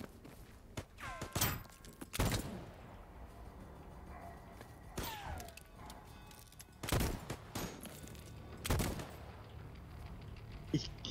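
Revolver shots in the video game Voidtrain ring out as sharp, loud bursts, spaced irregularly with a few quick doubles, over a low rumbling game backdrop.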